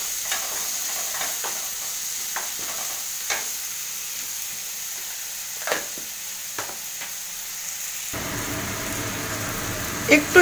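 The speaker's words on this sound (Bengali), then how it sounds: "নুন দিয়ে ভালো করে নেড়ে দিই" Tomato masala with salt being stirred in a frying pan: a soft, steady sizzle punctuated by scattered spoon clicks and scrapes, growing slightly fuller toward the end.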